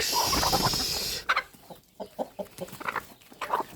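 Several chickens cluck in short, uneven bursts nearby; the first second is masked by a loud rushing noise before the clucks stand out clearly.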